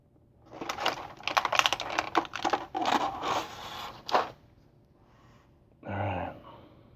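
An S.H. Figuarts War Machine Mark 3 action figure and its parts are pried out of a plastic tray, producing a close burst of crinkling, clicking plastic, then a pause and one more short rustle.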